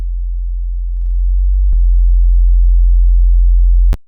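A pure synthesizer sine wave sub-bass drones steadily and loudly for about four seconds, swelling slightly early on and ending with a sharp click.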